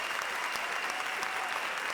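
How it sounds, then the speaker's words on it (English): A brief, steady burst of audience applause at a variety show, dense, even clapping at moderate volume from start to finish with no talk over it. "Big round of applause."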